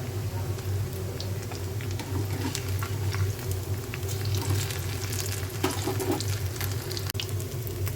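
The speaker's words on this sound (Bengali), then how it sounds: "ভেজে নিচ্ছি।" Bora fritters frying in hot oil, with a continuous bubbling sizzle and occasional clinks of a utensil close by, under faint background sounds.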